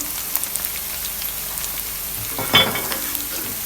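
Spices being stirred into a frying fish biryani mixture, a steady soft sizzle throughout with a brief louder scrape and stir burst partway through, close and alone.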